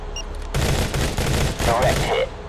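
A loud sustained volley of gunfire from the mobile shooter Modern Combat 3, starting abruptly after a quiet half second and rattling continuously with short pulses before stopping near the end.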